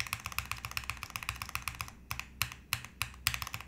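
Rapid typing on a custom O-ring mounted mechanical keyboard, a dense stream of close, crisp key clacks with a slightly hollow tone, briefly pausing into a few separate strokes before resuming.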